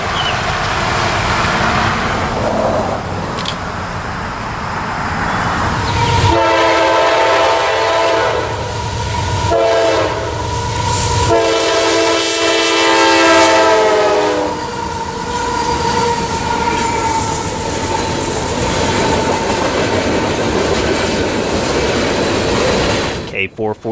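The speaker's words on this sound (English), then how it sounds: "CSX K449 was this train here, with a trio of AC-44 CWs." CSX freight train K449, led by three GE AC44CW locomotives, rolls past loudly with steady rail and wheel rumble, while the horn sounds in several long sustained blasts through the middle of the passage.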